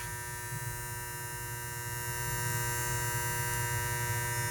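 Barber clippers run with a steady electric buzz and hum while their blade is adjusted, alone and close, the tone shifting slightly partway through.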